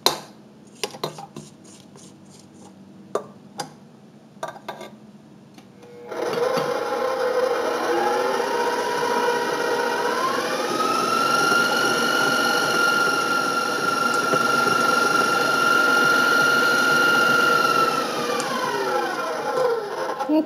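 A few sharp clinks and taps give way to a kitchen blender whirring steadily as it blends a cheesecake cookie mixture, its motor pitch rising and holding for about twelve seconds before easing off.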